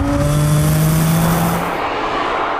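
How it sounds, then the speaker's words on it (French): A BMW Z3 M sports car engine revs hard and loud with a rising then falling tonal roar, close by, ending in a fading rush. "Le son enchanteur du moteur ajoute à la fête"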